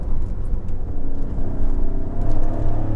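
A Maserati Grecale in Corsa mode with hard damper setting drives on a public road, its engine a steady, close, continuous drone with slight surges, no voices.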